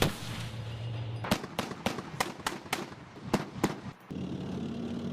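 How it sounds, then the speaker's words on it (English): A Russian infantry fighting vehicle fires on Ukrainian positions, about nine sharp, loud reports in an uneven rapid series over a steady background rumble, then a brief cut to silence. "A Russian infantry fighting vehicle advanced onto the battlefield and began firing on"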